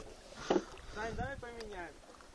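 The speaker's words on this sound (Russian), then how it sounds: "у мене лодка більша, мені важче гребти" Oars work a small boat on a river backwater during pike fishing, with soft splashes and creaking strokes under nearby talking voices and light wind.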